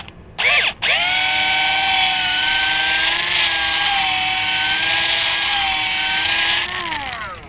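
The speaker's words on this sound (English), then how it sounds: "you just put it in a vise and run your drill bit through" A power drill bit bores through metal clamped in a vise. After a short initial burst it settles into a loud, steady high whine for about six seconds, then winds down.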